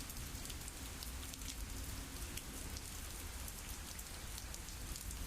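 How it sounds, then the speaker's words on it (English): Heavy rain falls steadily in the video game Glory Hounds, a dense, even hiss of drops hitting surfaces. The downpour is faint overall and carries on without a break, with no voices. "the rain's coming down hard"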